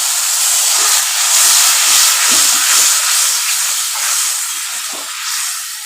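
Water hits a hot pan of spicy tangra fish curry, giving off a loud, continuous, close hiss of sizzling steam that swells and eases slightly over several seconds, with no talking.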